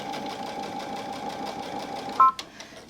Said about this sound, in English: I'm going to sew down this edge